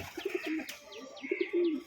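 Two short, soft coos from a pair of local Bengali pigeons, each a low rolling call, heard close by with faint bird chirps in the background.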